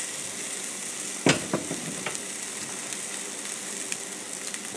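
Steak sizzles steadily on a Lodge Sportsman's cast iron grill, a close, continuous hiss with a sharper pop and crackle near the start and a few smaller spits later.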